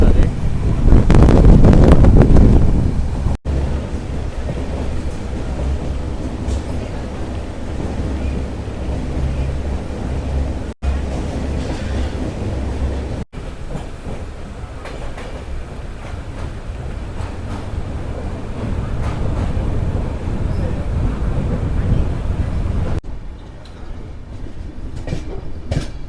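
Janshatabdi Express running from MGR Chennai Central toward Vijayawada, a loud steady rumble of wheels and carriages with wind noise and faint rhythmic clatter, a few brief dropouts, and voices mixed in.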